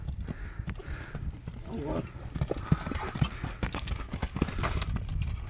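Horses' hooves clip-clop in an irregular, close stream of knocks at a horse market, with people talking over them and general outdoor bustle.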